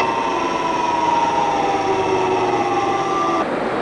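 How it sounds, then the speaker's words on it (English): Gas plant compressor running as it is shut down, a loud steady mechanical drone with tonal whine that drops abruptly near the end. "Shut down compressor 101."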